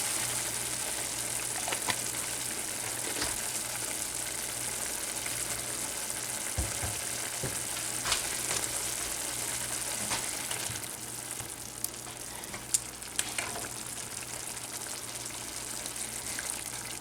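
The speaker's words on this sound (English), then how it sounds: "we're just going to cook it a little bit and let that marinade cook down just a little bit so it thickens up." Pork chops in sugar-free teriyaki marinade sizzle steadily in a pan as the sauce cooks down, a continuous close frying hiss with occasional faint clinks and no talking.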